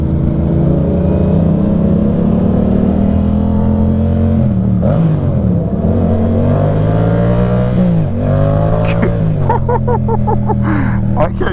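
Yamaha R7 motorcycle ridden on a highway, its engine droning loudly and steadily with shifts in pitch as it revs, plus heavy wind rush, close and continuous.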